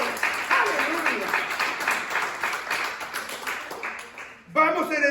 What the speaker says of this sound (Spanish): Tiene un aplauso a Jesucristo